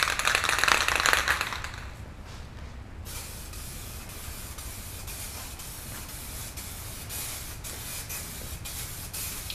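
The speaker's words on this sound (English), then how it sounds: "Spray in a crosshatch pattern to get the best coverage, as well as not have all the tiger striping" Aerosol spray paint hissing onto car parts for a Porsche 944 rally build, a loud close burst at first, then a steadier, fainter hiss that carries on to the end.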